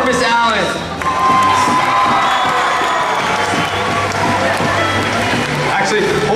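Loud school assembly crowd cheering, shouting and applauding for newly introduced staff, a dense continuous roar filling the hall from start to finish.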